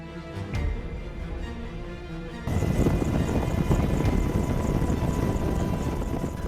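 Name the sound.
Apache attack helicopter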